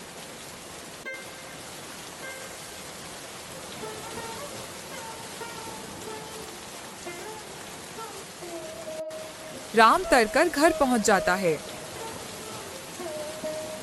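Steady rain hiss runs under a Hindi cartoon story scene as a character heads home through the downpour, with narration over it and a brief burst of louder tonal sounds near the end.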